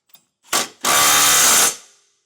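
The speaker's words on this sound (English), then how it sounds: "I'd recommend just snugging the bottom ones down with a 17mm socket," A ratchet turns a 17mm socket on trailer hitch bolts during a Class III hitch install on a 2022 Kia Sportage, giving one short burst of clicking and then a longer, louder run of rapid ratcheting, close up.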